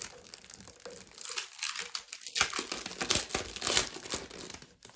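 Tissue paper crinkles and rustles as it is handled among junk journal papers, a close, continuous crackling with sharp crisp bursts throughout and a short quieter stretch in the middle.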